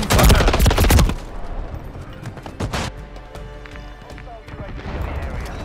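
Gunfire in Call of Duty: Modern Warfare III, a loud burst of rapid shots in the first second, then scattered shots and a single sharp report farther off, with game background noise throughout.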